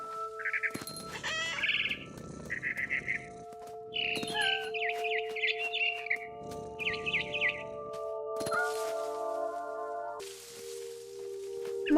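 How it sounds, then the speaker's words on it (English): A frightened barn swallow in What Remains of Edith Finch gives repeated short chirping bursts in clusters, close and fairly clear, over a steady tonal musical backdrop. "It was a barn swallow going back to her nest."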